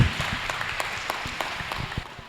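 Scattered applause from an audience at a mayoral candidate debate in Corrales, a brief burst of claps fading over a couple of seconds.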